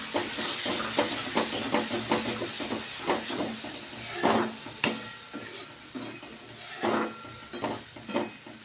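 Loud hissing and steaming as about two teaspoons of water hit a hot pan of tomato and spices, with spoon scrapes and clatter against the cookware throughout.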